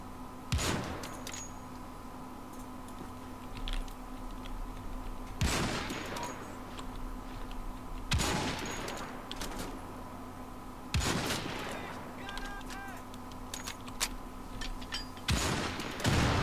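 Gunfire in Wolfenstein: The Old Blood, five or six sharp, loud shots spaced a few seconds apart, each ringing out over a steady low background hum.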